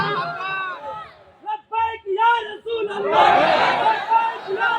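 A large crowd at a religious gathering chants back in unison after a call, voices swelling from scattered shouted bursts into a loud, sustained roar of many people.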